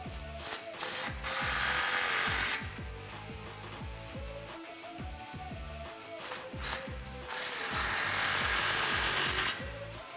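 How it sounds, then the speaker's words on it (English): A power tool tightening exhaust clamps on the tailpipe of a 2009-2018 RAM 1500 truck fitted with a Flowmaster FlowFX muffler, whirring in steady close bursts with mechanical rattling. "Rotate your clamps up into position and tighten them down."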